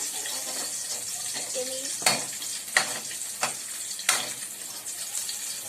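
Pinakbet with tomato sauce sizzling in a pan while being stirred, a low frying hiss broken by several sharp scrapes and knocks of the utensil, close up, with faint voices in the background.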